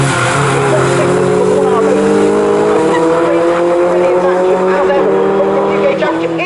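A pack of Fun Cup race cars runs close together at Snetterton, a loud, steady blend of engine drones with rising pitch and some tyre squeal, under a commentator's talk.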